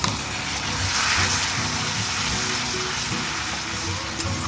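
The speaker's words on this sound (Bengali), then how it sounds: "এবার আমি যে পেস্টটা করে রেখেছি এই পেস্টটা এর মধ্যে দিয়ে দেবো" Spice paste of cashew, yogurt and fennel dropped into a hot pan, a loud continuous sizzle and hiss of frying with faint stirring underneath and no talk.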